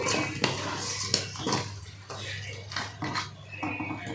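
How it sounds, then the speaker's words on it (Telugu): Chicken with spices and coriander powder is stirred in a pan for a chicken roast, with close metallic scrapes and clatters of a spoon against the pan. A voice talks over the mixing. "ఇది కూడా వేసిన తర్వాత మొత్తం కలిపేద్దామండి చూడండి ఇలా కలిపేసేద్దాం మొత్తము"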